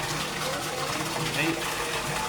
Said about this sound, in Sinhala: මේ මෝටරේ ඔන් කරලා දින වතුරේ.